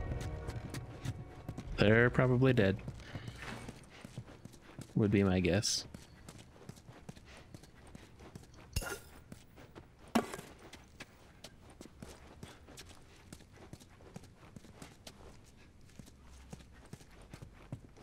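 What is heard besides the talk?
horses walking, from a video game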